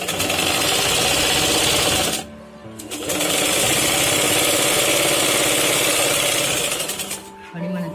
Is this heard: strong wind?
no